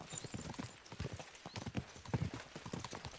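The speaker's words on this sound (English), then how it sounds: "We should spur the horses on." Horse hooves clip-clop steadily in the medieval video game Kingdom Come Deliverance II, a busy, continuous rhythm of several hoofbeats up close with no talk over them.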